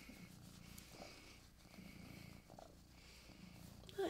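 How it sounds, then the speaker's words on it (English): A cat sits close while its owner crochets, purring in a steady, continuous rumble for about four seconds; the purr is close but fairly soft, with no talking over it. "That's a big purr."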